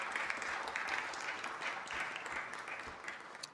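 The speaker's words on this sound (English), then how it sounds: "Let's give them a big round of applause for being with us today." A city council meeting audience applauds its guests with steady, dense clapping from many hands, filling the room at moderate level without a break.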